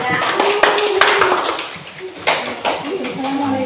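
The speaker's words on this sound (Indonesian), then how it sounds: "Baik, kita beri tepuk tangan." Students in a classroom clap after a group presentation, with scattered, fairly close hand claps mixed with chatter and children's voices throughout.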